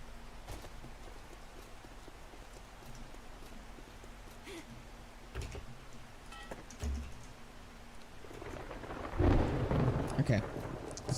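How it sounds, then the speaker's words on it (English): Thunderstorm in the video game 7 Days to Die, with a steady hiss of rain, a few soft rumbles and a louder roll of thunder near the end, along with keyboard tapping and occasional talk. "Storm is fading."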